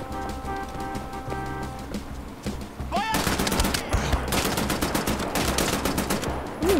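Gunfire in the video game Wolfenstein: The New Order, a loud rapid automatic burst of shots ripping out after a stretch of droning music, with a few single shots mixed in.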